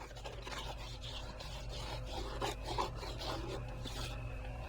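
A trowel scrapes and textures mortar on a fake rock, a continuous close, rasping scrape with small rhythmic strokes throughout over a low background hum.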